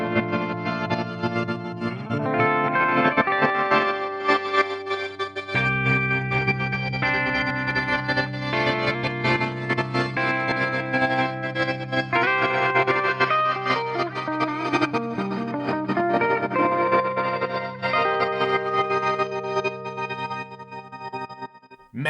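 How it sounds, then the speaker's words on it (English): Axe-Fx III guitar preset with granular delay, mega tap delay, crystal echoes and big reverb, heard as sustained, heavily effected distorted chords swelling with shimmering repeats and wash, loud and continuous throughout. "We've got a mega tap delay and the crystal echoes and a big reverb"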